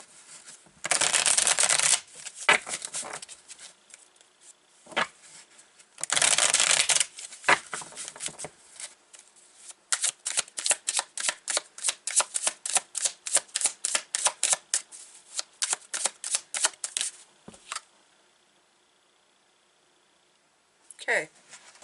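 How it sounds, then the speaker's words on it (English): A deck of tarot-style reading cards being shuffled up close, with bursts of dense riffling and rapid, evenly spaced card flicks, a pause, then a final short shuffle; no talking. "Let's start getting some cards out here."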